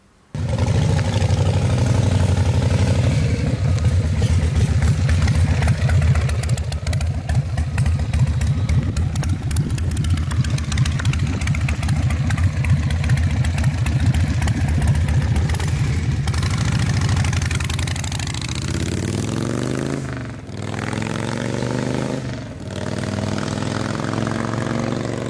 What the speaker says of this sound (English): This is as American as apple pie and Chevrolet, Harley Davidson Sportster